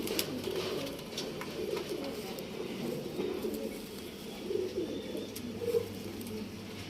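A breeding pigeon coos steadily and close by throughout, its soft throaty calls repeating over a constant murmur of birds, with a few faint sharp clicks and no talking.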